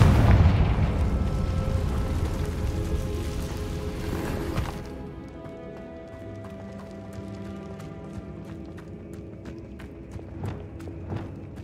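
A Confringo blasting spell goes off in the Hogwarts Legacy game inside an abandoned cave-in tunnel, a loud booming explosion in the first seconds that decays into a lingering rumble with faint scattered clatter and ambient tones.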